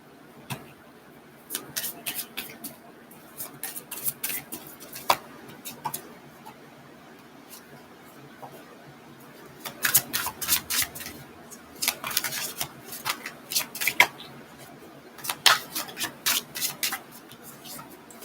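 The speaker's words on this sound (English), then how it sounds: "Yes, I will shuffle for the next person." Cards shuffled for a reading, heard as quick bursts of crisp riffling and flicking that come in clusters over a quiet background, with pauses between bursts.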